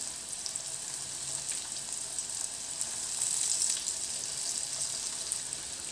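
Flour-coated sardines fry in a generous amount of hot oil, giving a steady, even hiss with faint pops, close and continuous with no voices.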